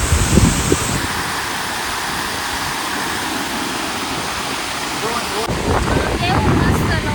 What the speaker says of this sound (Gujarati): મસ્ત મજાનો ધોધ પણ છે